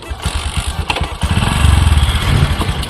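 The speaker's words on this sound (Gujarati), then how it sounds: "આપણે બાઈક ચાલુ કરી દઈએ" A motorcycle engine kicks into life in a village setting, a brief sputter giving way to a loud, close, pulsing mid-pitched idle that firms up over a few seconds.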